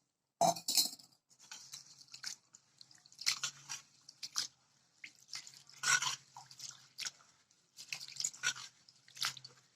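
Black kavuni rice is rinsed in water with intermittent wet swishes, drips and gritty grain rustles, quiet and close, coming in irregular bursts.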